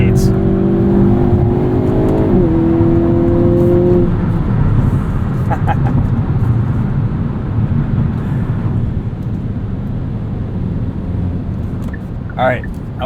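A 2022 Hyundai Kona N engine revs hard in manual mode while driving, rising tones climbing and shifting in the first seconds before settling into a loud, steady drone with road and wind roar.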